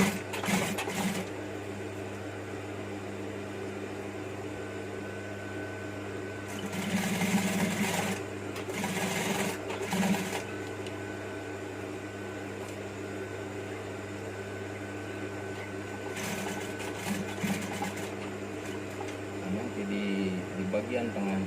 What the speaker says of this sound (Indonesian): Kita mulai jahit lagi.